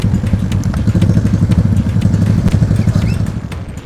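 A motorcycle engine runs steadily on a rural road in Tobadak district, a loud, close, throbbing low drone with an uneven clattering pulse and no talk over it.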